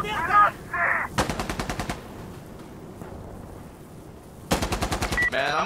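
Several bursts of rapid automatic gunfire with sharp cracks in a first-person shooter match where the opposing team has snipers, two main volleys separated by quieter ambience, with faint voices briefly audible.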